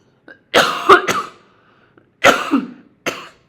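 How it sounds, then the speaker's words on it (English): Several harsh coughs close to the mic: a quick pair, a pause, then a longer raspy cough and one short final one. "I feel like I really need to cough again."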